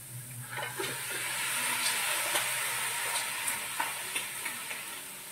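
Crab sizzles steadily in a hot pan, as in cooking crab with squash, with small crackles and pops breaking up the close, continuous hiss.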